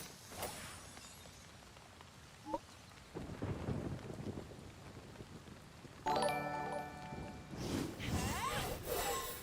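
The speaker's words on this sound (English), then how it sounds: "I heard the thunder in the game and it like confused me first." Thunderstorm in the farming video game Fae Farm, low rumbles of thunder rolling over a steady wash of rain, with a brief bright chime and musical tones breaking in partway through.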